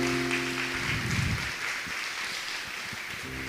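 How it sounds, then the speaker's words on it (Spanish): A church congregation at a Spanish-language Torah portion service claps in applause, a fairly steady wash of hands that fades slightly, with a low musical tone underneath at the start and end. "¿Cuántos le dan un aplauso a Él?"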